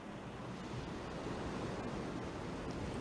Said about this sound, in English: You hear the rhythm of the waves and feel so relaxed.